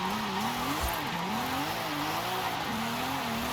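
A Nissan Skyline wagon drifts in the video game Forza Horizon 5, its engine note rising and falling in wavering pitch sweeps while the tires squeal through slides, heard alone and fairly faint without talk.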